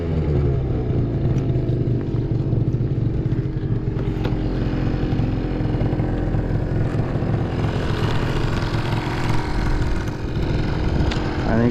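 A big bore Yamaha Zuma scooter's engine drones loud and close, holding a steady high-revving buzz for about twelve seconds with no voices over it.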